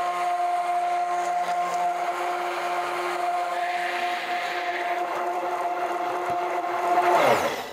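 An electric mixer whirs steadily as it blends a homemade eye cream, a continuous close motor hum that rises briefly near the end and then cuts off.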